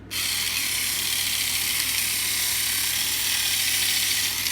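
A Tomy Plarail EF81 toy train motor whirs steadily with a buzzy, ratcheting gear rattle, switching on abruptly and running continuously up close.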